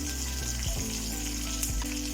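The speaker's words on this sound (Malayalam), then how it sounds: "ഇനി ഇതിലേക്ക് നമുക്ക് മുളക്, കറിവേപ്പില ഒന്ന് ഫ്രൈ ചെയ്തെടുക്കാം." Chili and curry leaves fry in hot oil for a bitter gourd curry, giving a dense, steady sizzle and crackle with faint clinks of a stirring utensil, close and continuous.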